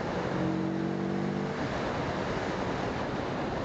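A Moto Morini 6½ 650cc motorcycle engine drones under way on an open road, a low steady hum buried in loud rushing wind noise, with a brief tonal engine note early on before the roar evens out.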